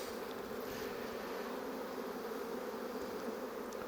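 Honeybees buzz steadily in an opened nucleus hive during an inspection, a dense, even drone that holds at constant loudness throughout, fairly close, with no voices.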